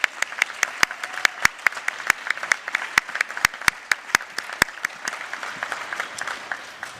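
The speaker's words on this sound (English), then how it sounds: "So I want to give you another hand of applause." Audience applauding at a nursing commencement and pinning ceremony, with sharp individual claps ringing out over a steady wash of clapping from a large seated crowd, sustained for several seconds.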